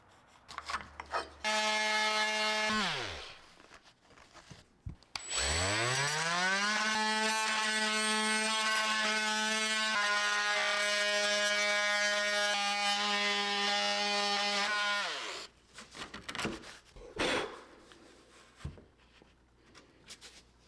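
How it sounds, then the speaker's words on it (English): An oscillating multi-tool cuts through the bottom of a wooden door jamb, giving a loud, close buzzing whine that rises as it bites in, then holds steady for about ten seconds before stopping, with handling noises around it. "cut it with an oscillating tool"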